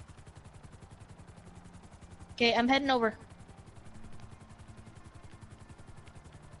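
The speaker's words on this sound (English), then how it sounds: "Let me just land the helicopter back." Helicopter in GTA, a faint, steady rotor chop pulsing throughout, briefly masked when someone speaks.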